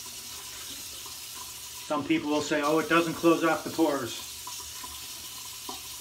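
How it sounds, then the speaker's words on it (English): A bathroom tap runs for about two seconds as warm and then cold water rinses the face after a shave with Italian shaving products. The splashing flow sits under someone talking nearby. "I like to rinse off with a little warm, and then I go right to cold water, full cold water."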